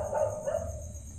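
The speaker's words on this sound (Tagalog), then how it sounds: "So, maingay sa labas. Merong may aso." A dog barks outside an abandoned building, two short sharp barks close together followed by fading background noise.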